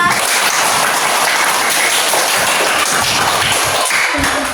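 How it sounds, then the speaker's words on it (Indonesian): A primary-school class claps together, loud dense applause filling the room steadily from start to finish, close and even without pauses. "Kita beri tepuk tangan untuk kita semua."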